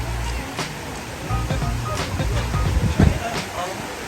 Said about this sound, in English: This is waterfall.